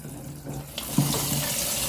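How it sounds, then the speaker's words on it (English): Cold tap water pours over a small sieve of cooked spaghetti in a home kitchen to rinse off starch, a steady close splashing rush that brightens and thickens as the flow hits the pasta. "I'm now just running it over cold water to take away the extra starch"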